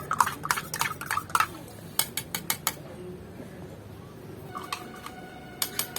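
A spoon stirs chocolate Horlicks powder into a little water, giving quick bursts of clinking and scraping against the vessel, then a pause and a few more taps near the end, close and fairly quiet.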